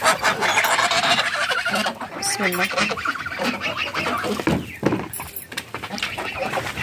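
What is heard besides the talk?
chickens clucking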